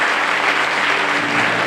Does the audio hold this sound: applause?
yes